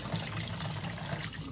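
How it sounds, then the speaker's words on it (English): Water runs steadily from a tap into a blown pysanky egg, a soft continuous gushing and trickling close by. "Just filling out with water."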